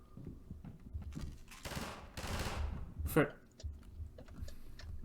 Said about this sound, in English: I saw somebody shoot somebody, but I don't know who shot who.